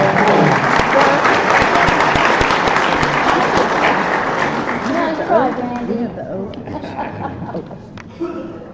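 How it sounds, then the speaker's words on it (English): Sustained applause from the audience at a county Republican Party executive committee meeting, loud and steady throughout before tapering off, with a few scattered voices and chuckles mixed in near the end. "So, Randy Johnson, we want to give you a round of applause for being here tonight and being willing to do that."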